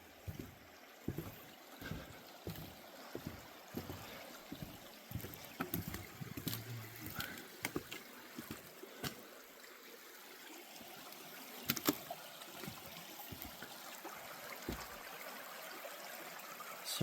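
A small river runs steadily past a wooden-boarded spot in late-season woods with a soft continuous flow, and irregular nearby taps and knocks rise over the water's hiss.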